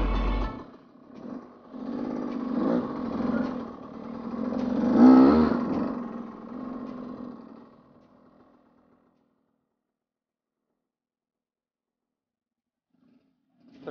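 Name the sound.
supermoto motorcycle engine revving, trying the bikes at a rest area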